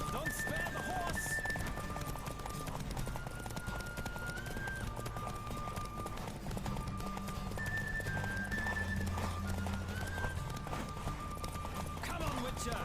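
Horse galloping in The Witcher 3 with rhythmic clip-clop hoofbeats, occasional whinnies and game music, while a player talks over it.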